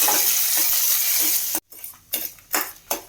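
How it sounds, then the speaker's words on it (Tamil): Mustard chutney ingredients sautéed with rock salt in a pan, a loud close sizzle that cuts out abruptly, then returns in bursts with repeated spatula scrapes and clinks against the metal. "இது கொஞ்சம் நல்லா வதக்கி விட்டுக்கலாம்"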